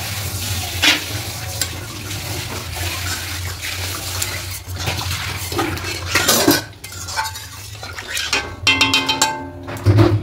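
Water poured into a pan of frying potatoes and spices for a soybean curry, giving a close sizzle and bubbling with clinks of a metal spoon scraping the pan, livelier bursts toward the end.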